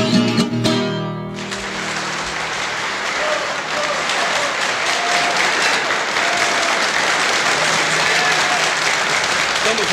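Loud, dense audience applause at a live show of Brazilian country duo music, a broad sustained roar of clapping that swells in after a brief musical ending and continues steadily throughout.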